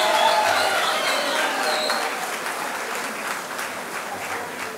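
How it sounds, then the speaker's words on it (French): Audience applause ovation at a speech during a 2015 IFPM sectoral exam ceremony, dense steady clapping from a large crowd that slowly tapers, no voices over it. "je demande une ovation d'applaudissement pour Brigitte Remacle et son équipe de l'IFPM"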